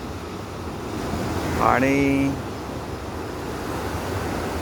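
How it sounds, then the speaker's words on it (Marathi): Ocean waves wash steadily along Pondicherry beach on a morning with boats offshore, a continuous windy surf close to the microphone, with a voice briefly heard over it partway through. "हिंदोळणाऱ्या लाटा"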